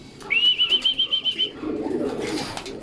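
A racing pigeon arrives at the loft during a training toss in Lumban, Laguna, with a close, bright whistling call repeated in a quick rhythm of about nine pulses, followed by a soft rustle of wings and movement.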